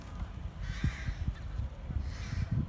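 Crows cawing in an open village field, a few harsh calls repeating at irregular intervals over steady outdoor background noise, fairly close and clear with no talking.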